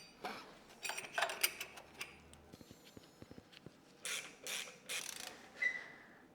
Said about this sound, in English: So then just tighten the bolt until it's flat.